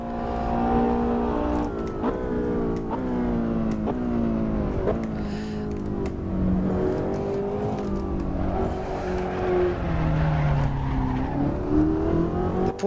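A Porsche 910 race car laps Le Mans in the Assetto Corsa racing game, its engine droning loud and steady with rising and falling harmonic gear sweeps and brief tire squeal, with no break throughout.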